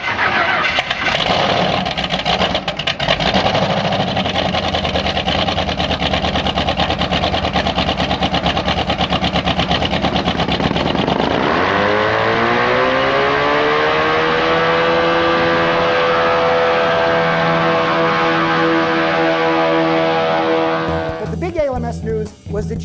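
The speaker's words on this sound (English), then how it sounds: "Brought the 2J that made ground effects with a lawnmower motor vacuuming the air out from under the car, because hearing it is just wild." Chaparral 2J race car, its ground-effect fan driven by a lawnmower motor, roars loud and steady, then its pitch climbs smoothly into a rising whine that holds high until a sharp change near the end.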